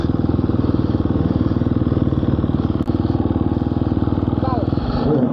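Gas Gas motocross bike ridden hard, its engine a loud, steady buzzing drone with rapid pulsing for most of the clip, easing off near the end.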